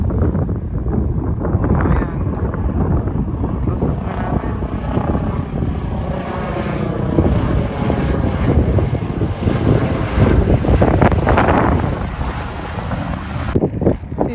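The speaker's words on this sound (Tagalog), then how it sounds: "May helicopter pa, oh." A helicopter passes overhead outdoors near grass, its thick, rumbling rotor noise continuous and fairly loud throughout. Faint background voices may be present.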